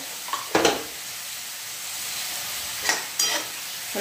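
Chopped onion with a little turmeric stir-fried in a pan, a steady sizzling hiss under a few louder scraping stirs of a spatula, close by.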